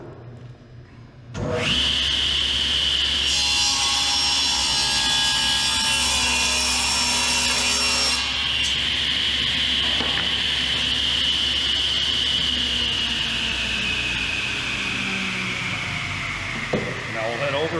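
A power saw spins up and cuts through a wooden board at a workbench, producing a steady loud whine with a harsher grinding phase mid-cut before the blade winds down near the end; a voice speaks briefly.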